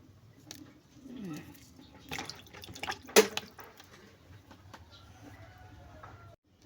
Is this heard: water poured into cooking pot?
yes